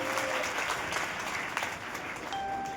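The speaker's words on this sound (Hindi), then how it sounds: "उनके सम्मान में जोरदार ताली बजा दो" A crowd at a public address event in Orai, Uttar Pradesh breaks into applause, a fairly faint, even patter of many hands clapping heard from a distance for the whole stretch.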